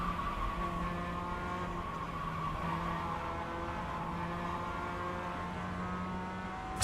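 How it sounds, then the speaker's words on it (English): Steady, continuous engine and tyre noise from the iRacing or Le Mans Ultimate racing game, with sustained tonal hum and a smooth, unbroken roar throughout. "Turn off the tyre sound."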